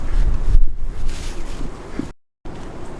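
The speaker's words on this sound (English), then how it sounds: "Did I mention it's quite windy?" Gusty wind buffets the microphone on an outdoor nature trail, a loud broadband roar that swells and eases, with a brief dropout of near silence before the blustering resumes.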